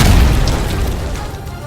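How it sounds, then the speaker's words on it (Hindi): A missile strikes a mosque in Khan Younis, giving a loud, close boom that starts at full force and then fades into a long, rumbling tail. "जैसे ही वो मिसाइल उस मस्जिद से टकराई उस इलाके में जोरदार धमाका हो गया"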